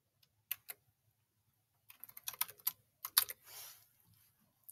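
Password being typed on a computer keyboard: a few isolated keystrokes, then a quick run of crisp close clicks with a brief heavier press near the end, in a quiet room with no talk.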